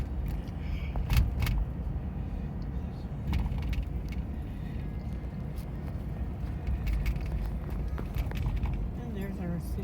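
A car drives over bumpy roads leaving Fort Payne, Alabama, with a steady low rumble of road noise broken by irregular jolts, rattles and thumps.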